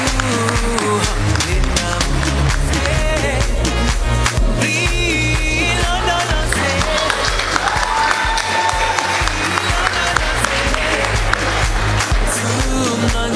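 Audience applauding at a cultural and arts event in Haut-Katanga, loud sustained clapping from a crowd filling the hall continuously, with some voices mixed in.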